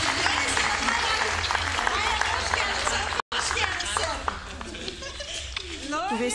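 Applause from the audience at an award presentation during a documentary film festival gala. Sustained crowd clapping fills the room, with a brief cut partway through and some chuckles and voices underneath.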